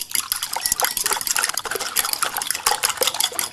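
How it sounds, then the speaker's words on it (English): Eggs and water being beaten in a bowl with a fork or whisk for a ham and potato omelet, a steady rapid clatter of utensil against bowl with wet sloshing, close and continuous without pauses. "And then we're just going to beat the eggs."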